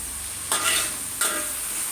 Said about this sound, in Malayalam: നമുക്ക് നന്നായിട്ടൊന്ന് ഇളക്കി കൊടുക്കണം